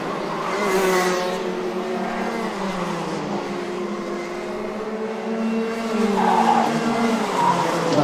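Junior MAX karts racing around a circuit in a karting final, a continuous loud buzz of small engines with shifting pitches as several karts pass close together, no talk.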